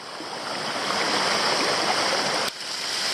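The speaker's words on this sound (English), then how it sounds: "this is Canungra Falls. Just on a little trickling side creek." A small waterfall on a trickling side creek at Canungra Falls in Queensland, giving a steady, close, broadband rush of falling water that holds constant, with no voices.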